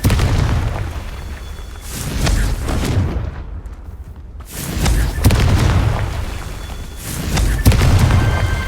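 Booming Confringo spell blasts from the game Hogwarts Legacy on hard mode, several loud explosive bursts with rumbling tails separated by brief lulls.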